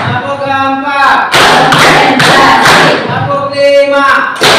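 An audience claps together in bursts on command, several loud rhythmic rounds of hand claps close by, separated by a voice giving spoken counts.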